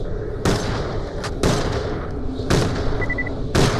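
Boomicorn gun shots in the video game Borderlands: The Pre-Sequel, four loud booming blasts spaced about a second apart, each with a sharp crack and a rumbling tail over a busy game background.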